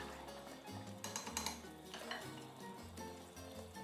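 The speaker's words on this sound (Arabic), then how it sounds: "هنا تقريبا 5 دقائق ونكمل نقلي الفلفل" Peppers fry quietly in a shallow layer of oil, giving a soft, steady sizzle with a few light clinks of a utensil against the pot over a low background hum.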